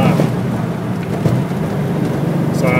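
A Nissan Datsun L30 six fitted with triple Mikuni 44PHH carburettors revs in a steady, loud, rough-edged low rumble that holds for the whole stretch with no clear breaks.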